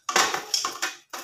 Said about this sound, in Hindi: अब डालते हैं अंदर ये जो पकौड़े